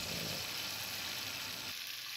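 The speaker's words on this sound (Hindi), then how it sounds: "यहाँ पर देसी घी का तड़का यहाँ पर इसका रेडी हो रहा है" Desi ghee tempering sizzles steadily in a pan for a hareesa dish, a dense, even frying hiss that fills the whole stretch at close range, with no voices over it.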